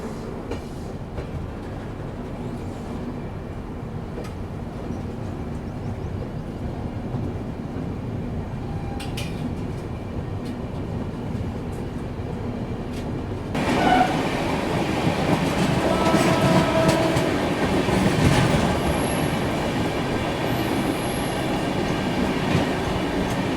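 The Howrah–New Delhi Poorva Express sits halted at a station, heard from inside a 3AC coach as a steady low rail-yard rumble that swells louder and busier partway through.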